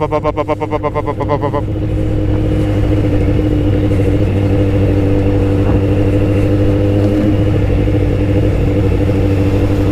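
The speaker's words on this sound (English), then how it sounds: "Why do inline fours sound like that when you feather the throttle?" An inline-four Yamaha FZ1 motorcycle engine with throttle feathering gives a rapid pulsing burble at first, then a loud steady droning hum as the bike rolls on at speed.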